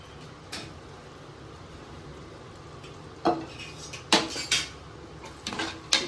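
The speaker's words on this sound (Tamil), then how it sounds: "நல்லா மிக்ஸ் பண்ணிக்கிறேன்." Ground masala is being mixed into mushroom donne biryani in a pot. A quiet stretch gives way to several sharp metallic clanks and scrapes of a utensil against the pot near the end.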